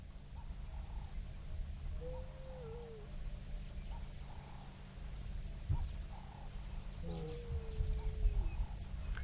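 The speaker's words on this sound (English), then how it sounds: "See if she roars properly." A lioness on a sunrise safari gives two faint, drawn-out moaning calls, a few seconds apart and heard from a distance over low background rumble.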